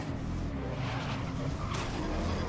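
A race car skidding into a spin in the GRID racing game, a loud continuous engine roar with a rising tire screech toward the end, close and sustained.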